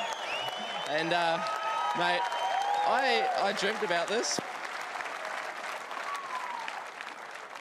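A crowd claps and cheers at a Supercars race celebration while someone speaks clearly over it, the applause continuing steadily as a wash of background sound.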